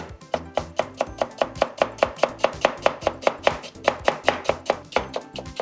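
Rapid, even knife chops julienne-cutting thinly sliced, stacked potatoes on a cutting board, about twenty crisp close strikes in a steady rhythm with no talking.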